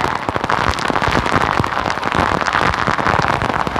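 Heavy rain pours during flooding, a dense, steady hiss and patter of drops striking surfaces that fills the whole stretch at constant loudness, with no voices heard.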